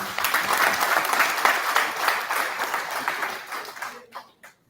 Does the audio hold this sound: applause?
yes